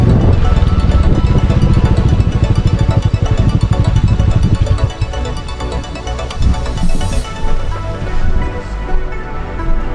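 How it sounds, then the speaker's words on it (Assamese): A vehicle drives past on a mountain road on the way to Tawang, a loud close engine rumble that fades after a few seconds, leaving softer ambient noise and a distant river. "গাড়ী গৈছে"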